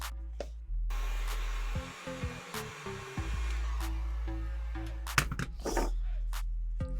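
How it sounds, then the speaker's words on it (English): A heat gun blows with a steady whirring hum while heating craft foam for a sci-fi mask, its pitch shifting briefly as the airflow changes, with faint handling clicks and rustles nearby. "I'm going to heat the foam up and kind of drop it on this to kind of pre-curl the foam a little bit"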